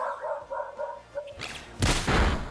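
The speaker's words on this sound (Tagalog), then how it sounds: "Tingin naman ng aso." A dog in Pokémon Scarlet/Violet gives a short run of rhythmic yips and barks, then a louder burst of game noise and effects takes over.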